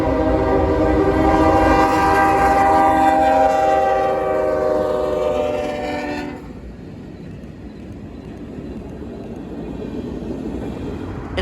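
A heritage-painted locomotive leads the City of New Orleans passenger train with a private car on the rear, rumbling loudly past, and its horn holds a long blast. Then the horn cuts off abruptly, leaving a lower, steady rolling rumble.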